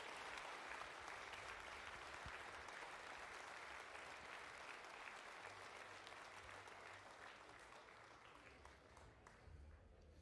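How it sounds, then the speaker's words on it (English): A crowd applauds cosplay contest entrants in a steady, dense wash of clapping that lasts throughout and fades slightly toward the end, heard from a little distance. "give a warm round of applause to everyone who entered"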